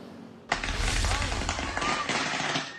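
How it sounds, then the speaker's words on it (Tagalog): A sudden loud bang kicks off a sustained crackling, popping roar of an electrical transformer blowing on power lines in Pasay, continuing with sharp bursts throughout. "Pero hindi fireworks yan dahil mula yan sa pumutok na transformer na kuryente."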